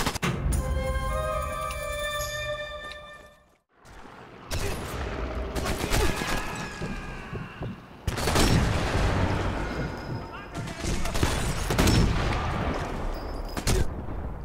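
Rapid, inaccurate machine gun fire in the shooter game Sniper Elite 4, loud bursts and booming shots coming in waves with brief gaps, a short pause near the start, with little talk over it.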